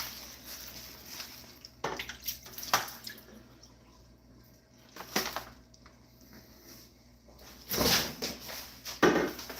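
Hog chitlins and water are dumped into a colander at a kitchen sink, making a few separate splashes and short pours with quiet dripping and handling in between.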